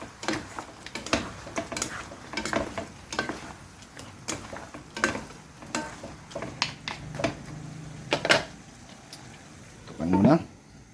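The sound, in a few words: stirring food in a cooking pan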